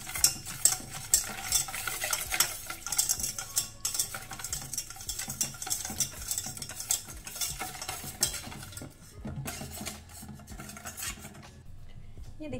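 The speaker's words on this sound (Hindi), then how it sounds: "अब इन तमाम चीज़ों को पहले मिक्स कर लेंगे अच्छी तरह से" Sugar and dessert ingredients for an eggless chocolate mousse are stirred in a bowl, giving a steady, close run of scraping and clinking from the utensil that continues alone without pause.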